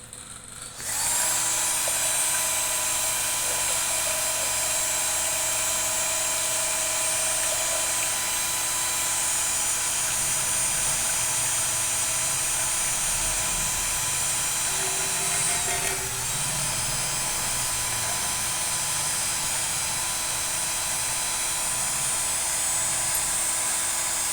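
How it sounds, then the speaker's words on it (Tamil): An electric drill fitted with a churning paddle whirs continuously at a steady high pitch while churning butter, with a faint churning, sloshing undertone throughout. "இந்த ட்ரில்லரில் மத்து கட் பண்ணி போட்டு நம்ம கடை போகிறோம் பாருங்கள்"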